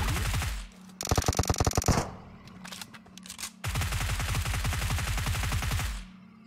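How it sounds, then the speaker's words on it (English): Video game gunfire: rapid automatic bursts of sharp shots in quick rhythmic strings, a short burst followed by a longer sustained volley, close and loud. "Can you shoot me with your bullets?"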